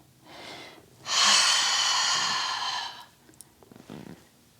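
During a yoga session, one long, audible breath is drawn and released, a breathy airy rush lasting about two seconds and heard up close, with softer breaths before and after it.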